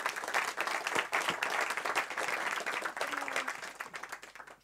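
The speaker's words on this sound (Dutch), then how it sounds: "groot applaus voor de" Audience applause at a Dutch panel discussion on area development and Amsterdam accessibility, brisk individual claps rising to a full round, then thinning as it fades out.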